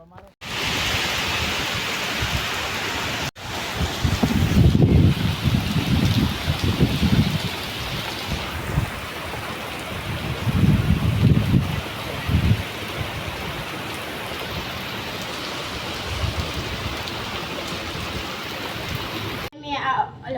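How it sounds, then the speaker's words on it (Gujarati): Rain falling outdoors at Bagvadar, a steady, hissing patter that fills the scene with broad wash, interrupted by a couple of abrupt cuts, while low rumbling bursts come and go beneath it. "વરસાદ વાળું સીન હતું એ બગવદરનું હતું"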